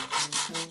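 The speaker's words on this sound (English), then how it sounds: "Let's start by sanding" Sandpaper rubs back and forth across a painted stencil in quick, close strokes, about four short rasping passes with brief pauses between, no talking.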